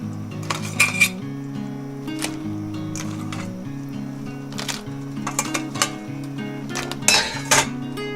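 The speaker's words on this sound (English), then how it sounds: "I'm going to drop the crab into this." Crab pieces clatter and clink against a metal pot of kurma curry in a few sharp knocks and scrapes, over sustained low music tones.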